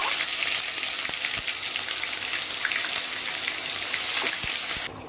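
Onion paste sizzling in hot oil with cinnamon, cardamom and bay leaf, a steady close broadband hiss with scattered pops and crackles, continuous until it drops off sharply at the end.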